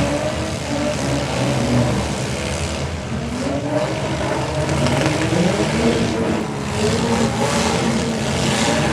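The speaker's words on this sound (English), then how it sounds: "Both north and the south side in the middle are all piled up, all them cars going at it" Demolition derby cars at the Paulding County Fair revving and grinding together in a pile-up, a dense, loud, continuous engine roar with crowd-like noise and no clear separate impacts.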